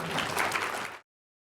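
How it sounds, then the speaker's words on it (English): Brief burst of applause from a conference audience thanking a speaker, dense clapping that stops abruptly after about a second, followed by silence. "round of applause once more"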